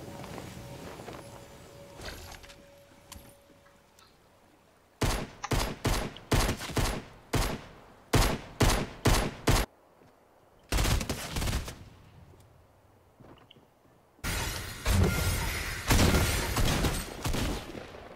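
Gunfire in a Fortnite Battle Royale match: loud rapid bursts of shots in quick clusters, a pause, then another sustained volley, with faint footsteps between.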